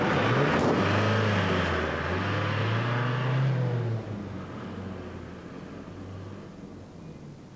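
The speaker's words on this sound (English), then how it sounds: "Get the engine running!" A truck engine revs loudly and rises in pitch, then drops back to a lower idle rumble as it fades slightly.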